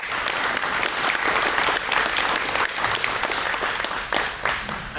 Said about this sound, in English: a round of applause needs to go to that staff